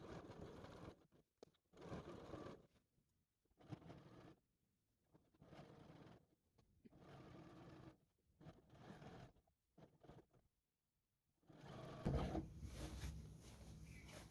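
A sewing machine stitches layers of skirt fabric at a waistband in several separate runs of steady whirring, each a second or two long with short pauses between, and a louder burst of rustling handling at the end.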